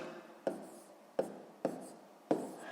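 Numbers are written by hand on paper, heard as four separate sharp pen taps and short scratches spaced irregularly, close and quiet.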